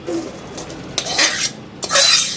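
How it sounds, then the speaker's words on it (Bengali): Boiled bottle gourd being tipped from a pan into another pot, with close metallic scrapes, clatters and wet sliding bursts in short uneven pulses and no voices. "তখন সেটা সিদ্ধ হয়ে গেছে, একটা অন্য পাত্রে ঢেলে নিচ্ছি"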